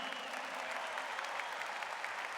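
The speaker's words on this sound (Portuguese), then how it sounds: "Se você está aplaudindo, aplauda para valer" A church audience claps together in a sustained, even wash of applause, moderately distant and steady for the whole stretch.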